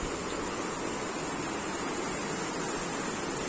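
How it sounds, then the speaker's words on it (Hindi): A small river flows slowly past a village in the Manali hills, giving a steady, even rush of water that stays unbroken and moderately close throughout. "पानी बह रही है धीमी रफ्तार से, छोटी नदी है ये"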